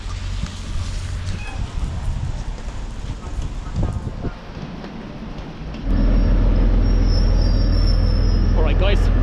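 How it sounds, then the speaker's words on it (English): A train rolls into a station in autumn weather in Belarus, a near rumble with faint wheel squeal that swells into a loud, steady roar as it draws close, with a person talking over the first part. "that's my train"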